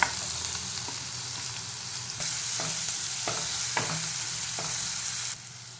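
Onion fries in hot oil with cumin and asafoetida, a steady close sizzle broken by several spoon scrapes and stirs, the hiss surging louder partway through before dropping at the end.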